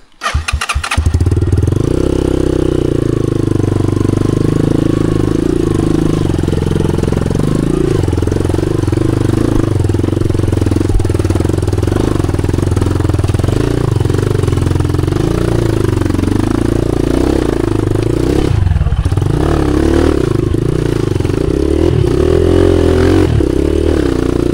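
A motorcycle on a steep mountain trail starts up and then runs loud and close, its engine droning and revving unevenly as it strains over rough ground, with no voices heard.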